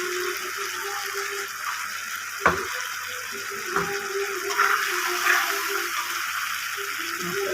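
Water from rinsed bowls is poured onto spices sizzling in a pan, a steady low hiss and bubbling with a few sharp splashes and clinks, fairly quiet throughout.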